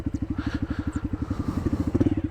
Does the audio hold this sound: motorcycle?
yes